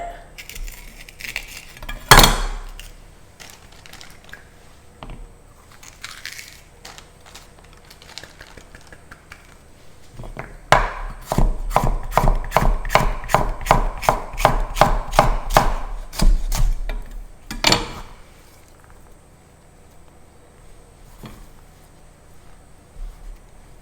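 Knife chopping fresh garden capsicum on a board, scattered cuts at first, then a fast steady run of crisp chops, close and clear with no talk.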